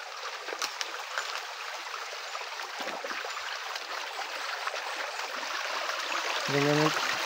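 A stream flows near a small waterfall at a jungle falls, a steady broadband rush and gurgle of running water that stays continuous and close, with a brief voice near the end.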